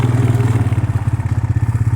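An ATV four-wheeler riding a rough property trail, its engine chugging in a steady, rapid pulse at low revs, close and continuous with faint clatter and no voices.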